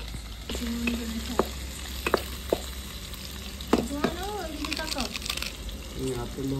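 Garlic frying for a mixed three-lentil dal, a steady hiss of oil with scattered pops and stirring clatter, close by, with someone talking intermittently over it.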